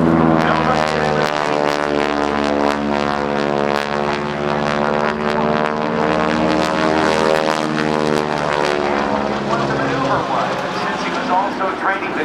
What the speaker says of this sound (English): Fly 5/8 of a loop and then roll the airplane right side up